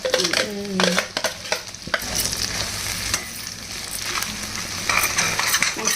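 Red chili paste sizzles in hot oil as it is stirred for mirchi ka salan, with busy scraping and stirring sounds over an even frying hiss.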